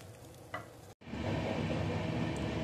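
Tomatoes for a spicy momo chutney cook in a pan with a dense, steady sizzle and bubbling, broken by a brief silent gap near the start before the frying noise returns louder.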